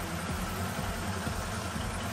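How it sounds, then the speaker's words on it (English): A 1977 Honda CB750A Hondamatic motorcycle engine idles on choke after torque converter work, a steady, even low rumble with a smooth mechanical hum and no change in pace. "So it seems to be idling fine, and the noise that was coming from the torque converter is gone."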